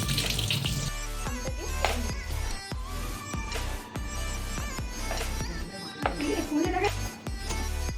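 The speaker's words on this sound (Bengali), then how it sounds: "আর আম, আমরা আমটাকে ভালো করে ধুয়ে নিচ্ছি।" A mango is washed under a running kitchen tap, water splashing steadily with a few clunks and knocks as the fruit is handled.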